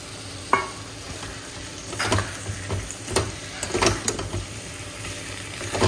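Chopped potatoes and other ingredients are stirred and sautéed in oil in a pan, giving a steady close sizzle broken by irregular scraping strokes of the spatula, with no voices.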